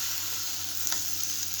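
Fried potatoes and pointed gourd go into a well-cooked spice paste in a kadai, with a steady, close sizzle and a brief clink of stirring midway.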